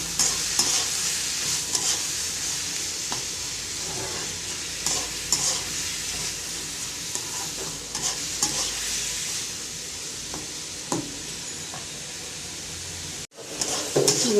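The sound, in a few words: shrimp and onion frying and stirring in pan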